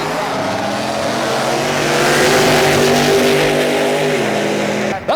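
A big engine roars loud and steady at high revs as Bill Golden's Little Red Wagon wheelie truck runs down a drag strip at a Martin, Michigan truck show, fading off sharply at the end.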